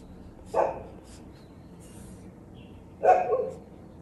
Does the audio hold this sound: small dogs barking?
yes